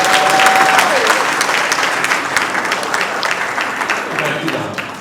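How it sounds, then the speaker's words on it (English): A large audience at a government swearing-in ceremony for newly appointed executive council members gives loud, sustained applause. The dense crowd clapping fills the moment, starting strong and easing slightly toward the end, with a brief steady tone near the start. "So let's give him a round of applause."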